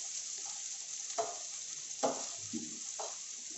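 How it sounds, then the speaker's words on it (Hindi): Onions fry over medium heat in a pan for vada pav, giving a quiet, steady sizzle broken by a few soft scraping stirs. "गैस की आंच को मीडियम कर लेंगे और इसे 3 से 4 मिनट भूनेंगे प्याज को"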